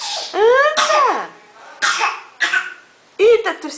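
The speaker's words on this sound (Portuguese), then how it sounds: "tá tossindo" A small child coughs several times in short bursts, close and loud, with brief pauses and a throaty catch between coughs.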